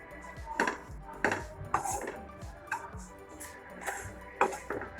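A spoon stirs a spiced chicken mixture for cutlets in a bowl, giving irregular clinks and knocks of utensil against the dish between soft scraping, close and fairly quiet.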